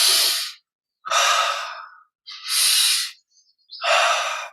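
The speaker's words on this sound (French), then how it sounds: "Et on sent la fraîcheur de l'inspire." Deep breaths during a guided meditation, heard as four loud, close, airy breaths, each a long inhale or exhale lasting under a second, with short silences between them.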